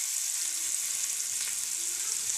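Ginger paste frying in a pan with onion and cardamom for a cashew masala curry, giving a steady, close hiss and sizzle throughout with no talking.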